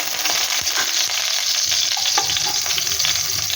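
Grated ginger and green chillies lightly frying in hot oil, giving a loud continuous close-up sizzle with occasional soft stirring scrapes, and no voices.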